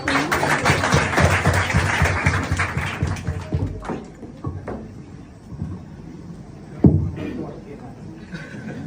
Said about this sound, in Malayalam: ഒന്ന് ക്ലാപ്പ് ചെയ്തേ